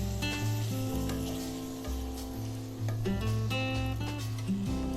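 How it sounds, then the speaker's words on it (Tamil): Chicken liver fries and sizzles steadily in a hot pan with occasional stirring scrapes, a loud, continuous crackle throughout with no talking. "இதை ஒரு 2 நிமிஷம் நல்லா வணக்கி விடுங்க."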